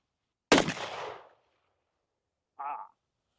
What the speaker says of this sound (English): DeLance, you have to shoot this.